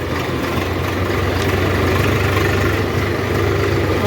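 A tractor sits idling beside a combine harvester during the wheat harvest, its engine giving a steady, continuous low rumble with slight vibration that stays even throughout.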